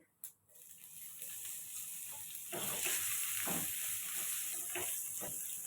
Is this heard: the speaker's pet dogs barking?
no